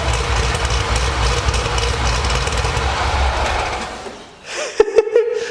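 A Chevrolet Camaro on stock mufflers gives off a loud, steady engine rumble for about four seconds, dips briefly, then returns with a few short, sharp bursts near the end.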